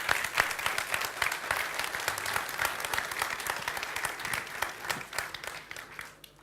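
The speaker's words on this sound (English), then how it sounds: "Applause for Luka" A conference audience gives a speaker a warm round of applause, dense and steady clapping from a sizable crowd that holds evenly for several seconds before thinning slightly at the end.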